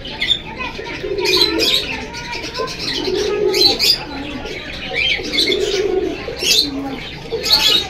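Domestic pigeons in a loft at a pigeon market cooing repeatedly in soft, throaty rolls, with occasional higher chirps mixed in throughout and a faint background murmur.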